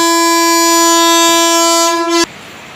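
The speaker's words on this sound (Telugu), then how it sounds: "తణుకు రైల్వే స్టేషన్కి ఇప్పుడు వచ్చిందండి మన ట్రైన్" A passenger train arriving at Tanuku railway station sounds a long, loud, steady horn blast that cuts off abruptly, leaving quieter station ambience.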